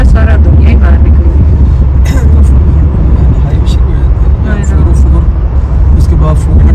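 Cars and buses roll by on a crowded road, a dense, steady low rumble with occasional passing swells and horn-like bursts beneath ongoing speech.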